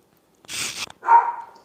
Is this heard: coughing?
no